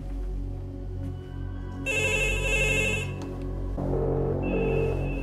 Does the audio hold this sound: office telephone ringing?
yes